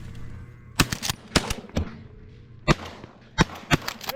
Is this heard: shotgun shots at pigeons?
yes